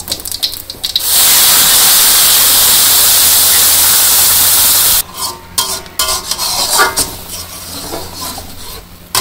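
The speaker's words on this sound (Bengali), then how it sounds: "মশলাটা আমি ভালো করে কষে নেই।" A spice paste of ginger, garlic, onion and green chili hits hot oil with cumin in a wok for a Bangladeshi duck curry, a loud steady sizzle for several seconds, then scraping and stirring clatters.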